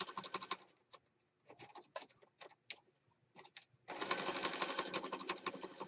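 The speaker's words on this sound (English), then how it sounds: "I'm going to sew around this fabric piece, and I'll sew around the paper piece" A sewing machine stitches around a fabric piece, running in short stop-start bursts of rapid needle clatter before one long continuous run, close and without talk.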